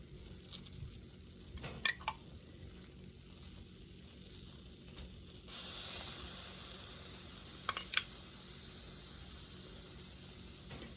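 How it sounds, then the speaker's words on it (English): A breaded chicken cutlet sizzles in a frying pan for a homemade chicken parm sandwich, a steady close-up hiss that swells louder midway, punctuated by a few sharp pops and scrapes. "Listen to that sizzle."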